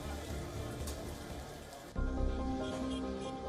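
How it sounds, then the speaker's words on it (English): Heavy rainfall pouring down in Mumbai, a steady dense hiss of rain on surfaces that grows louder and fuller midway through, with no voices. "Mumbai woke up to heavy rainfall and consequent waterlogging"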